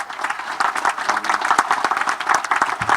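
Audience at a 2013 ceremony applauding veterans of the greatest generation, a lively burst of many hands clapping close by, steady and fairly loud for a few seconds.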